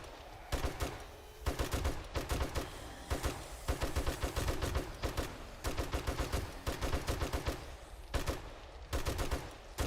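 Steady rapid-fire gunshots in 7 Days to Die as a player fires low-level ammo into zombie hordes in a desert base. Evenly paced, rhythmic bursts with brief gaps between strings of shots.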